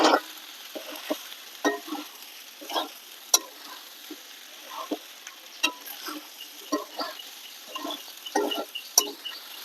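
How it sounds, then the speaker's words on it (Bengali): Cooked jirakathi rice stirred into chicken pilaf in a pan, with irregular scraping and tossing sounds and soft sizzling, close and moderately quiet with no talk. "ভাতটা দিয়ে দেবো। ভালো করে নেড়ে চেড়ে নেবো।"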